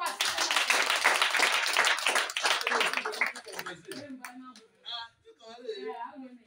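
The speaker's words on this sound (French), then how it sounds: "Applaudis pour le Seigneur." A church congregation claps for the Lord in a burst of close, brisk hand claps lasting a few seconds, fading out as a voice begins speaking.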